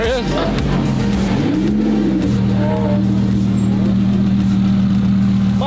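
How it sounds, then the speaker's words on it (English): A Lamborghini Super Trofeo Evo 2 race car engine drones loud and close, its pitch rising briefly and then holding at a steady, throaty idle-to-cruise tone with no letup. "Casual race car with no door coming to the gas station."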